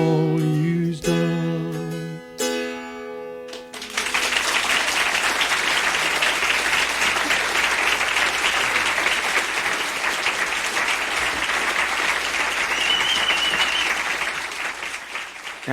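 Live audience applause at McCabe's Guitar Shop in Santa Monica, California, breaking out as an Appalachian mountain dulcimer performance ends: the last plucked notes fade in the first few seconds, then dense, steady clapping fills the room until it tapers slightly near the end.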